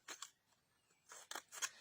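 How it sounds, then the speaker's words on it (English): Scissors cut through a flattened cardboard toilet roll in a few quick close snips, with a short pause between the cuts. "Then you get a scissors and you cut up about 1 inch or 2 at each corner"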